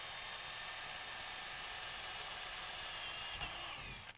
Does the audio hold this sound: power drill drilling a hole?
yes